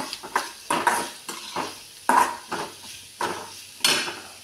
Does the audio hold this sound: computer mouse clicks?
no